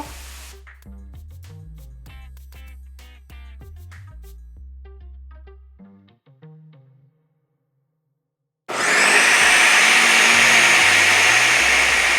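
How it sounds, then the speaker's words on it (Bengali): An electric blender purees chopped tomatoes for a chicken tikka masala gravy, coming in as a loud, steady whirring roar after a quiet pause, with some music playing earlier. "গ্রেভির জন্য যে আমি টমেটোগুলো কেটে নিয়েছি জাস্ট ব্লেন্ডারে দেওয়ার জন্য।"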